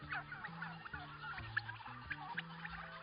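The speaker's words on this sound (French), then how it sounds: "les milliers de pintades, de poulets et de dindes n'hésitent d'ailleurs pas à se faire entendre" Thousands of guinea fowl, chickens and turkeys call at once, a busy chorus of gobbling and clucking from a large flock at a moderate distance, with no voices.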